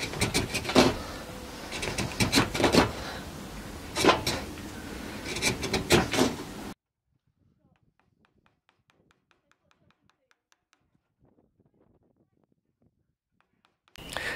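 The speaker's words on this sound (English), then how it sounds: "So I used the gouge to work quickly down the sides" Hollow wooden taps and scraping from a gouge and mallet carving a green wood cup, several knocks in quick succession, close and clear, then near silence with only faint ticks before a final tap.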